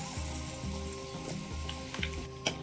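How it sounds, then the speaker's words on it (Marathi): Cut potatoes for an aloo matar dish hit hot tempering oil with a steady sizzle, a few stirring scrapes and a brighter crackle near the end, fairly quiet and close, no talking. "आता फोडणीत टाकून देऊ आपण कापलेले आलू"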